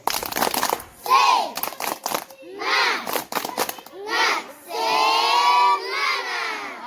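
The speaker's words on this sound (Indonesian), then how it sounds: "sekarang tepuk semangat" A class of schoolchildren performs a spirit clap (tepuk semangat), bursts of sharp rhythmic clapping alternating with loud group shouts in a patterned call, close and energetic.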